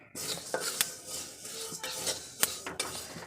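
New mung dal frying dry in a pan, heard as a soft, faint rustle with sharp metallic clicks and scrapes of a spatula at irregular intervals, and no voices.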